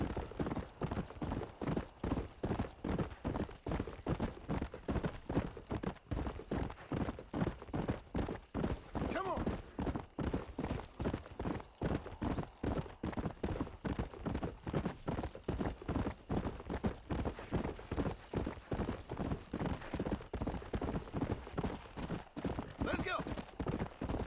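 Steady, rhythmic clip-clop of horse hooves at a brisk pace running continuously in Red Dead Redemption, with constant background game noise.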